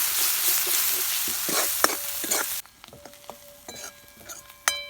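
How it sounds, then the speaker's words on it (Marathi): Onion sautéing with turmeric, coriander, cumin, asafoetida and ginger-garlic paste for a sandage bhaji: a loud, steady sizzle with spoon stirring and scraping, dropping to a quieter crackle partway through, close up and with no voices. "छान परतायचं आपल्याला."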